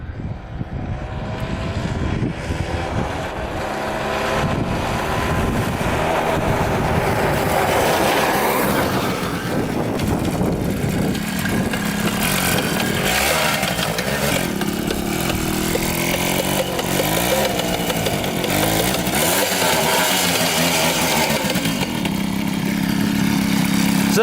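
Kawasaki KX420 dirt bike engine screaming loud and close as the rider runs up through every gear, a continuous high-revving roar with rising and dropping pitch across the shifts, no talking.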